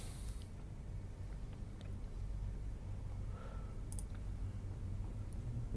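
A computer mouse gives a few faint, sparse clicks in a quiet room over a low steady hum, with no one talking.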